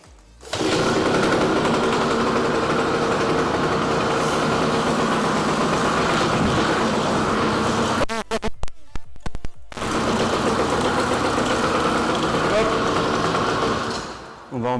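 An MBK 51 moped engine kicked over with the choke on catches and runs at a fast, buzzy idle close by. It stumbles and cuts out briefly around the eighth second, then restarts and keeps running steadily before dropping off at the end.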